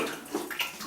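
Brief splashing and trickling of water as freshly laid shower wall tiles are washed down, soft and close with small gurgling bursts.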